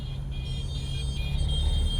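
A car engine hums steadily from inside the cabin while the driver speeds up in low gear, a constant close rumble with a faint rising whine.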